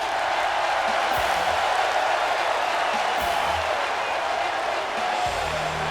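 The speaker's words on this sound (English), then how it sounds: "This crowd has officially come unglued for the Olympic gold medalist." A steady, dense roar of an arena crowd cheering in the WWE 2K wrestling video game, continuous and loud throughout with no breaks.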